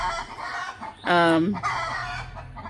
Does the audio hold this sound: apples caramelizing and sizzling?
no